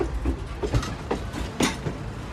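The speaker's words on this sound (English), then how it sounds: "You can see the beautiful wine train." A wine train rolling on rails through vineyard country, a steady rumble with rhythmic clacks heard from nearby, no voices.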